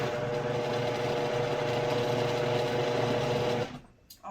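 A Vitamix blender whirring at high speed as it blends a chocolate peanut butter smoothie, a loud steady motor drone that cuts off near the end.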